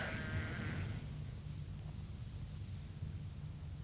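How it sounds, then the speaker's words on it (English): A sheep bleats near the start in the Yorkshire Dales, one short wavering call over a steady low rumble of outdoor background. "And these sheep in the dales of Yorkshire."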